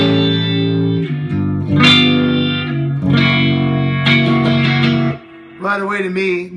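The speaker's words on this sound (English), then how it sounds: "Here it is with the effect." An electric guitar played through a Granville Pink Bunkadoo effect pedal rings out in distorted, effected chords and notes, a few sustained strums with reverb tails followed by a brief warbling phrase.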